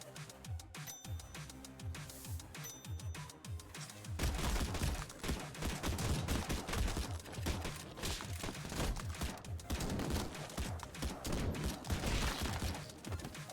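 Dense, continuous gunfire from the Madness Combat video game, rapid overlapping shots forming a loud fusillade that intensifies after the first few seconds and keeps up steadily throughout, with no talking.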